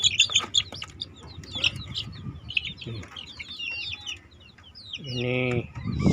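Healthy chicks in a second breeding coop cluck and cheep, with many overlapping peeps up close and a longer low clucking call near the end, under a busy background.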